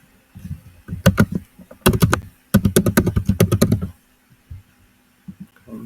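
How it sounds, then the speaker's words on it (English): Rapid bursts of typing on a computer keyboard, close and crisp, with dense runs of keystrokes separated by short pauses; no talking. "I'm typing too fast."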